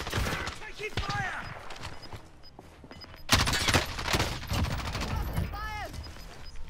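Rapid gunfire in the Warzone video game: bursts of close shots crackle loudly, with a louder volley midway, while players talk over the shooting.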